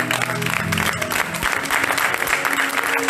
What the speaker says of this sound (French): Un applauso a Dio.